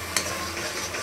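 Black masala sizzles in a hot pan with drumsticks, potato and cauliflower, a steady close frying hiss with a single sharp clink of stirring near the start and no talking.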